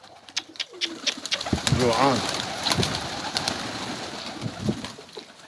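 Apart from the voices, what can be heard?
strange bird calling, pigeon-like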